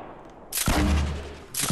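Rapid gunfire in the Fortnite battle royale video game, a loud dense burst of shots that erupts after a quiet moment and rattles on continuously, with a second burst starting at the end.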